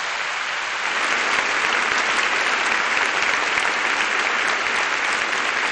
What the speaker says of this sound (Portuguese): Você pode aplaudir o Senhor pela sua palavra?